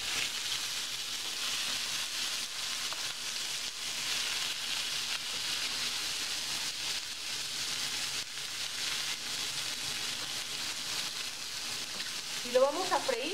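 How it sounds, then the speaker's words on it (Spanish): Tomato, onion, garlic and chiles frying in a splash of oil for salsa de cacahuate, a constant dense hiss-like sizzle throughout, close and even, ending with a brief rattle of stirring. "Y lo vamos a freír por unos minutos."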